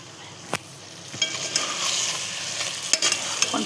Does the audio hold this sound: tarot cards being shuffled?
no